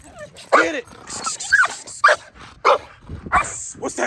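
A dog barks several times up close, with high whimpers and yips between the barks and people talking over it.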